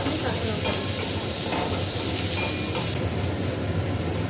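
Onion paste sizzles and fries in a hot pan while being stirred, a steady close frying hiss with scraping strokes of a spoon throughout, no voices.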